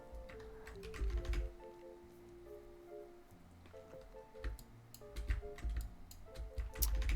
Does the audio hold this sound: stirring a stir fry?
no